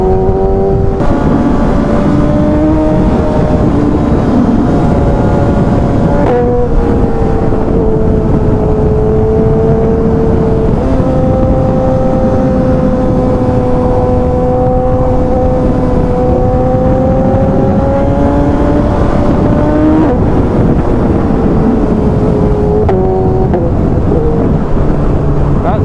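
Exhaust of a Suzuki GSX-S 1000cc motorcycle on the road, a loud, continuous engine drone that rises and falls with throttle changes, heavy wind rushing over it.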